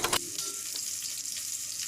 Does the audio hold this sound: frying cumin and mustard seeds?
yes